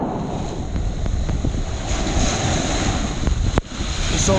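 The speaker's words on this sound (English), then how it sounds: "watching the boat have the waves crash on me." Ocean waves wash and break continuously at the edge of a small island in the Florida Keys, with steady wind buffeting across the microphone and one brief sharp knock near the end.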